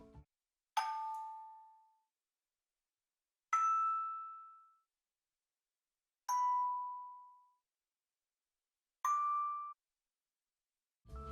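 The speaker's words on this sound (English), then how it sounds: "stem called Vibey plug. It sounds really retro-ish" A retro-sounding plucked synth stem from a pop production, dry and unprocessed, plays four bright single plucked notes spaced a few seconds apart, each decaying quickly into silence.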